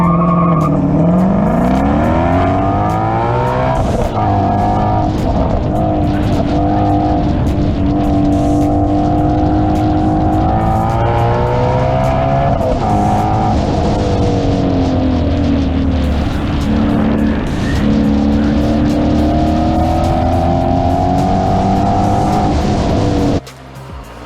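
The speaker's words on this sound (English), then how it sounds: "That Mustang can carry a lot of cornering speed." A Ford Mustang GT350 racing at a spectator drag event roars loud and close, its engine pitch sweeping up through gear changes with hints of tire squeal. The sound is continuous and then cuts off abruptly at the end.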